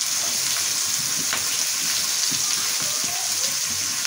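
Gourd greens (lau shak) land in a hot pan with potatoes and fry with a loud, continuous crackling sizzle that sounds like rain, with no talking.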